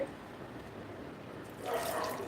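Quiet water pouring in near the end, a brief splashy stream of about 200 ml into a mixture for ice apple sherbet after a stretch of low background noise.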